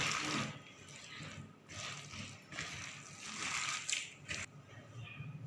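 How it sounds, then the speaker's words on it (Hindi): Wet squishing and sloshing as pakora batter for kadhi pakora is mixed by hand in a bowl, soft irregular squelches rising and falling, fairly quiet and close, with no talking. "लेकिन हाथों से ये अच्छे से मिक्स होंगे"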